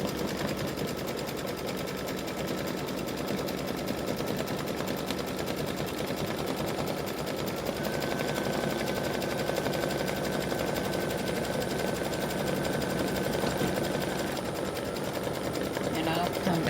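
An embroidery machine satin-stitches an applique pumpkin, its needle chattering in a fast, even mechanical rhythm that runs continuously and up close, with a voice talking over it.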